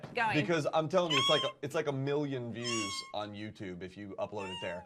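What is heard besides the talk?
cat meowing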